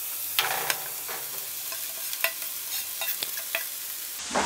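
Chopped onion, walnuts and lentils frying in oil in a pan, a steady soft sizzle with scattered scrapes and clinks as the mixture is stirred.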